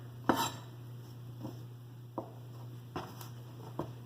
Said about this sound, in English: We're just gonna give them a rough chop. That's it for our carrots.